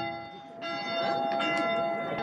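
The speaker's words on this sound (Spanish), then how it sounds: "Esa campana que suena continuamente es porque la gente la toca." Church bell at the Iglesia de la Asunción by a lake, rung by visitors, ringing in a sustained, ringing tone with overlapping strikes, moderately near, with some faint background activity.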